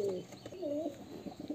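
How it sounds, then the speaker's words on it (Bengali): A pair of pigeons coo close by in a home loft in Murshidabad, soft, low, throaty burbling calls repeating in short rolling phrases with no voices. "এই হচ্ছে একজোড়া পায়রা।"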